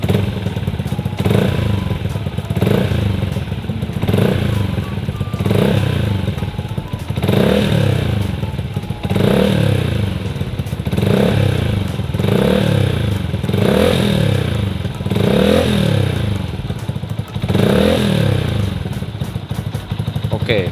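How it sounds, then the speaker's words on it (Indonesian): A Yamaha R15 V2 motorcycle engine, freshly filled with Motul 5100 Ester oil, revs repeatedly in a steady rhythm, each throttle blip rising and falling, loud and close with a clattering idle between. "Coba kita sedikit geber-geber nih"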